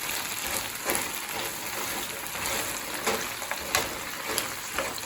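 Frozen okra fries in hot oil, a steady close crackling sizzle with scattered pops and spits running throughout.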